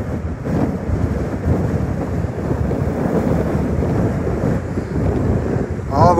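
Large lake waves crash and wash up onto the shore in strong wind on a rough Memorial Day weekend, a loud continuous roar of surf with heavy wind buffeting the microphone throughout.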